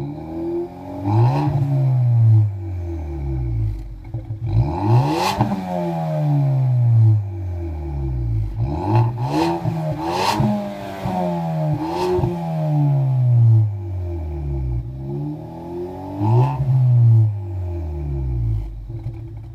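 A 2013 Ford Escape's 2.0 L turbo four-cylinder engine revs repeatedly, climbing and falling in pitch in several close, loud bursts with a rough idle rumble between them.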